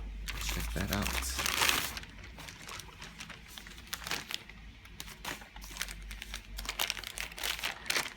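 Crinkling and rustling of packaging material while unboxing an Oukitel U13 phone, loud bursts of crumpling up close followed by lighter intermittent crackles and handling clicks, with faint talk in the background.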